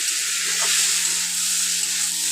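Chopped taro stems are stir-fried in a pan with a loud, steady hissing sizzle close at hand throughout, plus a faint scrape of stirring and no voices.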